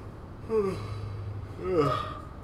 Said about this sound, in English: Don't yawn in the video